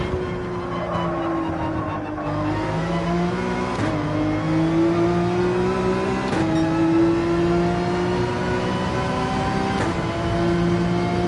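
A race car engine in Gran Turismo 7 holds a loud, steady drone that climbs gradually in pitch as the throttle is worked, with brief dips at gear changes and no voices.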